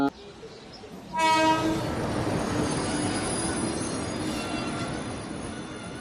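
A passenger train sounds a loud horn blast, then rolls on with a heavy continuous rumble and high wheel squeal, close and sustained, while faint voices sit underneath.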